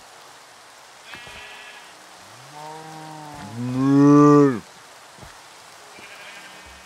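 A Minecraft sheep bleats once in a drawn-out, wavering cry, loud and close, in a modded Sky Greg steam-age world, with quiet talk and soft clicks around it.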